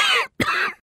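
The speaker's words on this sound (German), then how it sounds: "Husten Sie mal." A single patient's cough during a doctor's examination of a sore throat, two short rough bursts split by a brief pause, close and alone.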